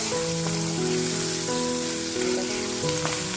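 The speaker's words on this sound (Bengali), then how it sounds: "দেখো ভাজার মতো থেকে তেল ছেড়ে দিয়েছে" Eggplant and potato pieces fry in oil in a pan, giving a steady close-up sizzle with light crackling and a faint tonal hum running through it.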